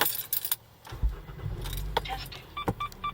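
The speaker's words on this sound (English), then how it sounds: "so I'll go ahead and turn the engine on" A Kia Sorento SUV starts up: keys jangle in short bursts, then the engine cranks and settles into a low rumbling idle inside the cabin, followed by a few quick electronic beeps near the end.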